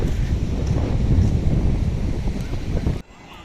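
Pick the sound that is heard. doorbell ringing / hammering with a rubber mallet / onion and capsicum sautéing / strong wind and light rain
strong wind and light rain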